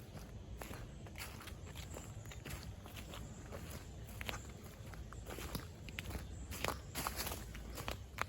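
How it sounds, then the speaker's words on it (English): Cows walking behind along a path toward a clearing, their hooves crunching and thudding in irregular steady footsteps on leaves and ground, close and moderately quiet. "Oh, I can hear the footsteps behind me."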